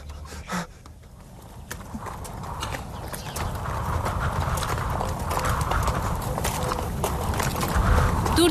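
Horse hooves clip-clopping at a steady walking rhythm, growing louder and more continuous over the stretch, heard alone with no talk.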